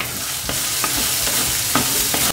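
Carrots and other vegetables sizzle in a hot pan while a utensil scrapes and stirs them in a few quick, rhythmic strokes.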